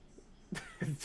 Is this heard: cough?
yes